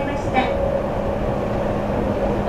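A Toei Mita Line 6500 series electric train with a Mitsubishi hybrid SiC VVVF inverter runs with a steady, close rolling rumble and a faint whining hum, continuous throughout, with a brief voice near the start.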